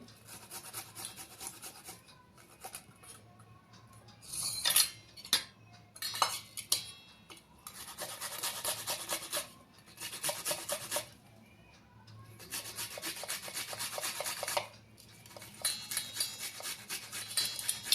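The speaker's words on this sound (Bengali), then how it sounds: "আমি সব ঘষে নেব গ্রেটারে" Ginger, garlic and onion rubbed against a hand grater in a home kitchen, producing close, rhythmic rasping strokes in repeated bursts with short pauses between them.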